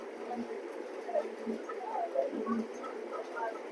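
A racing pigeon at a loft coos in soft, repeated throaty phrases, close by and moderately quiet against a faint background hush.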